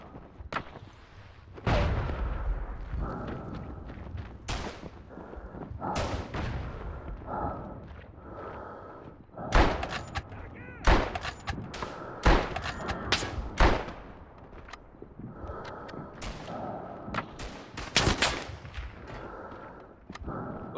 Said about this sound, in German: Ich hab gerade einen Mörser reingeworfen.